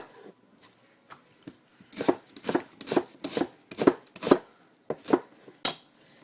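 A knife chops onions on a board for an Ecuadorian pepper steak, a quick, uneven run of sharp close thuds that speeds into a steady rhythm, with no talk.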